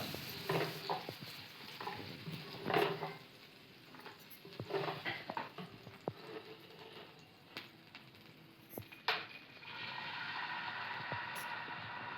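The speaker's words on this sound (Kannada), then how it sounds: "ಇವಾಗ ದೋಸೆ ಹಾಕೊಳ್ಳೋಣ" Green gram dosa batter cooks on a hot griddle with cumin, a close sizzle mixed with scraping and stirring clicks that settles into a steadier hiss toward the end.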